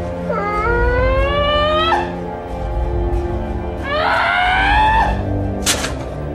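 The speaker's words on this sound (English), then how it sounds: "he lets out a few goofy screams." A man in the 1997 film Face/Off lets out two long, wavering, goofy screams, close and loud, with a short sharp outburst just after, over low background noise.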